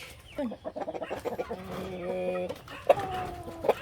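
A Buff Orpington hen clucks close by in a series of short, uneven calls, with a few drawn-out tonal notes, among light background noise.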